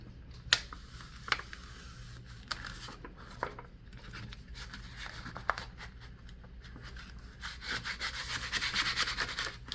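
Squeegee rubbing and scraping over a sublimation transfer on PS GlitterFlex Ultra, repeated close strokes with sharp taps between them, growing steadier and louder toward the end.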